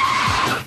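Car tires skid in a brief, loud squeal during a high-speed handbrake turnaround on a driving course, a single sharp screech that fades out within a second.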